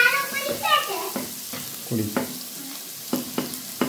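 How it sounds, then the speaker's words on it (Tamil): Onions frying for a Sri Lankan fish curry tempering, with a steady sizzle under stirring clatter and a few sharp utensil knocks; a voice is faintly heard early on. "அதுக்கு முதல் வெங்காயம்லாம் போட்டு தாளிச்சாச்சு."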